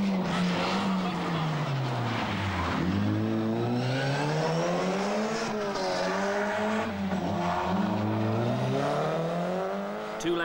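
A Vauxhall Astra GTE rally car with a six-speed gearbox races on a Welsh rally stage in 1988, its engine loud and continuous as it revs up and down through gear changes, while a commentator talks over it.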